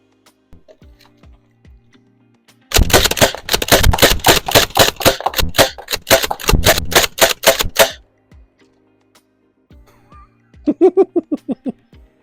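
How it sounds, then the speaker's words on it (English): An Aeon Pro X air gun loaded with 12 shots is slam-fired in a rapid string of sharp, loud pops that lasts about five seconds, followed by quiet and a brief voice. "our final test is to do the slam fire trick and see how that goes"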